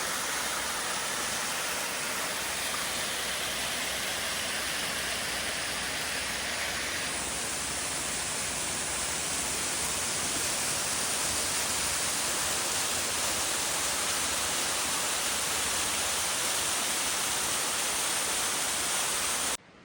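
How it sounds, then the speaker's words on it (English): A waterfall beside the Mt Marathon trail roars as a constant broadband rush, close and unchanging for the whole stretch, with no voices. "So here's the waterfall."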